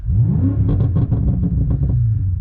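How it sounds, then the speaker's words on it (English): Close, deep exhaust rumble from a 2018 BMW M5 with an AWE track exhaust, a series of sharp revs and crackles over roughly two seconds, loud and continuous, no voices. "I'll give you a rev again."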